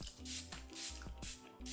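Skincare facial mist sprayed from a pump bottle: three short, soft hissing bursts in quick succession, quiet and close.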